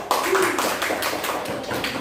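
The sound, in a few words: classroom students clapping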